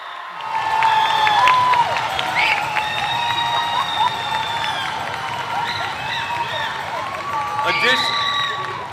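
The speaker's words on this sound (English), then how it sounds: "So let's give all of us here a nice round of applause." Audience at a 2022 high school commencement applauding and cheering, a sustained wash of clapping with shouts and whistles rising over it, fairly loud and steady across the room.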